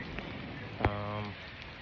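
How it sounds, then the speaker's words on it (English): Heavy rain pours down on a Tokyo street, a steady close hiss of drops on pavement with a brief sharp knock partway through. "it just started pouring rain"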